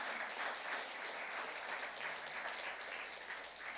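A congregation claps together during a Korean church youth Saturday worship service, a sustained, even patter of many hands at moderate distance with no voices above it.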